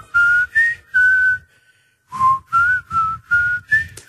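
A TV theme whistled clearly, sustained notes in short phrases with a pause midway, close and loud with no talking.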